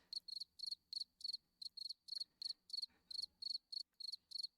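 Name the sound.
crickets chirping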